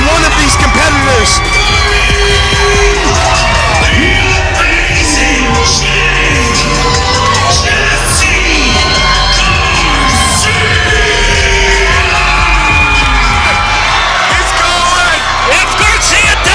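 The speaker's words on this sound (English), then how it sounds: "Listen to the crowd right now." A video-game wrestling crowd cheers, yells and whoops loudly and continuously during a number-one contender match, with an arena roar filling the whole stretch.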